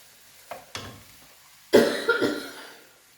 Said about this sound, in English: while I was covering for my coughing fit